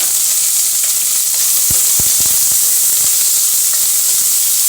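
Onion, garlic and ginger fry in hot oil with a loud, steady sizzle and hiss, close up, broken by a few soft stirring knocks.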